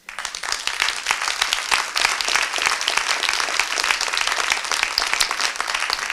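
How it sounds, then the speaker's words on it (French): Audience applause at a childcare conference, dense sustained clapping from a room full of people, steady and fairly close, with a faint voice underneath. "donc je vous remercie de les applaudir"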